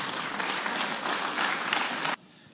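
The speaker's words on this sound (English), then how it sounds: "Can we give Jeremy a round of applause, thanking him?" An indoor audience applauds at a church-style evening talk, a dense, steady wash of clapping for about two seconds that stops abruptly, leaving quiet room tone.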